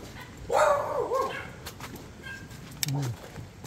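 A dog yips and barks a few times, with a whining call early on, close by amid outdoor background noise near a beach in Dauin, Philippines.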